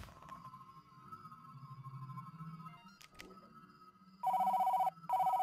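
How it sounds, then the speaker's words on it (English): A phone in the video game Job Simulator rings twice in loud electronic bursts, the first long and the second cut short. Quieter game tones and clicks come before the rings. "Oh, someone's on the phone."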